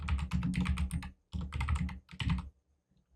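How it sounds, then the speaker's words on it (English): Fast keystrokes on a computer keyboard in three dense bursts with short pauses between, loud and close, then silence. "I'm going to type in Hillbros Chemicals."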